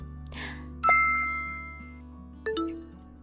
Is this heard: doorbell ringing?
yes